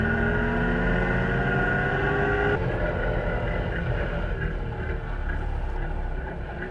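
Two-stroke Zwickau P70 car with a wooden frame and plastic body driving, its engine a steady loud buzzing drone with harmonic whine that shifts pitch partway through as it changes gear, continuous throughout.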